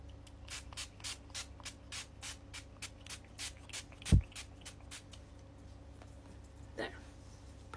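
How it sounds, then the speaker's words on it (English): Quick, soft hisses from a Tower 28 setting spray bottle repeat in a steady rapid series during close-up ASMR makeup application, then give way to quiet handling noises. "So we're gonna use the Tower 28 setting spray."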